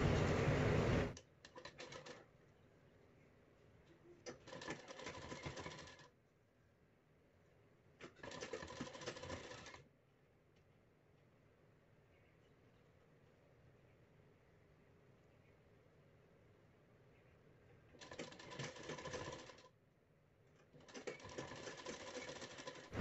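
A sewing machine stitches blouse fabric in several separate bursts of a few seconds each, with quieter pauses between runs; no talking is heard.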